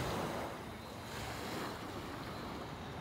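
Ocean waves break and wash onto the beach at Carlisle Bay, Barbados, in a continuous faint roar with wind buffeting the microphone.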